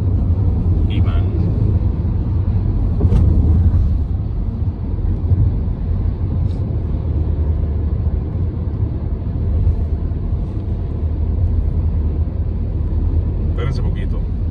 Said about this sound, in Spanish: Un montón de carros que vienen